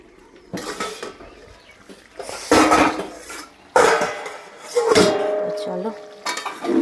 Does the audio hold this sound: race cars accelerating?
no